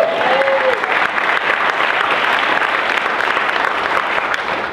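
A wedding crowd applauds steadily and loudly throughout, the clapping dense and sustained without letting up.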